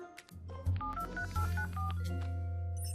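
A mobile phone's buttons pressed to check messages in an animated show: a quick run of close, clear electronic keypad tones, several beeps in an uneven rhythm, over a low steady background hum and with no talking.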